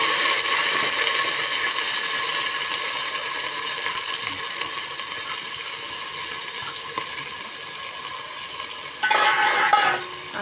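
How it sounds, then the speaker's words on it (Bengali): Rice grains frying in oil in a pan for a vegetarian khichuri, stirred steadily, giving a continuous close hiss with faint scraping and a brighter burst of sizzling near the end; no talking. "এইভাবে এবার আমি এগুলো নেড়ে নেব। এবার আমি তেলে চালগুলো দিয়ে দেবো।"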